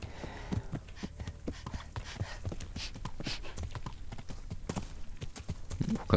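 Horse hooves clip-clop steadily in the medieval video game Kingdom Come: Deliverance as two horses are led along a path, the close, even thuds set against a quiet ambient hum.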